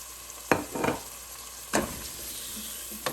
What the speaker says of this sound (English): Just saute all this for about 30 seconds. I'll be adding my potatoes as well.